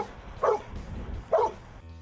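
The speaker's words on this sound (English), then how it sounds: "he committed to the scent source and started to bark" Glacier, a search dog working a rubble pile, barks twice at a scent source, two short sharp barks spaced about a second apart, moderately close, with no talk.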